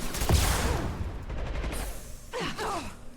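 Gunfire in Mass Effect 2 on high difficulty sounds in quick bursts, loud and close, with short sharp reports among game effects and a faint vocal sigh, and no clear speech.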